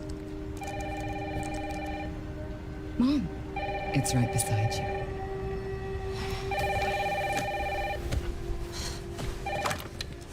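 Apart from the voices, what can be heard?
telephone ringing, from a video game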